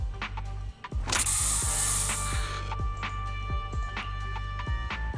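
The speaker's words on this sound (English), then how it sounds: "Here, have a taste of this special Bangbu spray." In the video game Zenless Zone Zero, a special Bangbu spray is fired in a loud hissing burst lasting over a second, set among rhythmic mechanical clicks and whirring game sounds.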